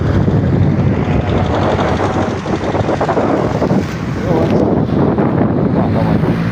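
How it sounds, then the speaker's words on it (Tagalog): Strong cold wind in San Jose del Monte roars and buffets against the microphone in a loud, continuous rush with brief dips in intensity. "Ang lamig ng simoy ng hangin, no?"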